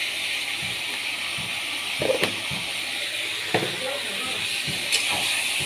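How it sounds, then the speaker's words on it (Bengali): Spice masala sizzling as it fries in a pan while a dalia dish is cooked, a constant bright hiss with occasional spatters and clinks of stirring. "মশলাটা কষাচ্ছি, এরকম মধ্যে একটু সামান্য চিনি দেবো।"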